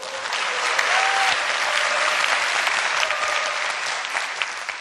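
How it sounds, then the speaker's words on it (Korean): A crowd applauds loudly and steadily, a dense wash of clapping hands that holds throughout with no voices over it. "박수."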